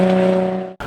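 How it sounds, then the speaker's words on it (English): Touring race cars, modified production cars, speed around a closed circuit with a loud, steady engine drone that cuts off sharply near the end before resuming. "Touring car racing is thrilling."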